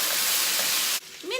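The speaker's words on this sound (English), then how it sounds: "Meanwhile that our potatoes are frying," Potatoes for home fries frying in a pan: a loud, close, continuous hissing sizzle that cuts off abruptly after about a second, followed by a brief quieter tail.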